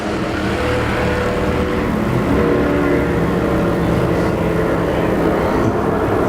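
IMCA sport mod race cars roar together at the green flag of a heat race at an Arizona speedway, a loud continuous wall of engine noise with no voices.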